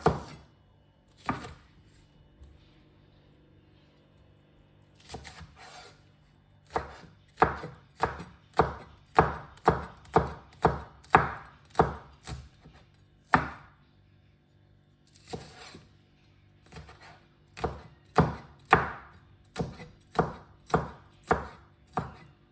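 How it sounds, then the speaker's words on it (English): A knife slices spring onions on a cutting board in crisp, rapid taps that come in quick bursts separated by short pauses, close and clear with no talking. "we will slice the spring onions."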